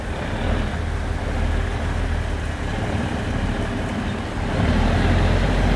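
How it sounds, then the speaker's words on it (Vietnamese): Cummins diesel engine of a tugboat built in 2017 running steadily, a continuous low rumble and broadband drone at constant loudness with no talk, swelling slightly toward the end. "mọi người có thể nghe được cái tiếng âm thanh này của động cơ Cummins của tàu kéo"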